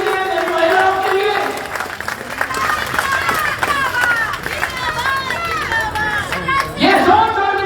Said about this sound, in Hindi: देखो फिर महिलाएं तालियां बजा रही है